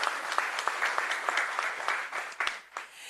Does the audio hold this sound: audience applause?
yes